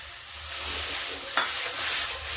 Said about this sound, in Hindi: मसाला पक रहा है